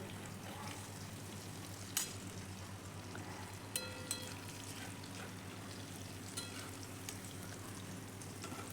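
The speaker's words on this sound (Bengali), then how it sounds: "সজনে ফুলের বড়া কিন্তু আমি এখানে মোটামুটি ভাজা হয়েই গেছে।" Drumstick flower fritters sizzle quietly in oil under a low steady hum, with a few faint clicks and pops.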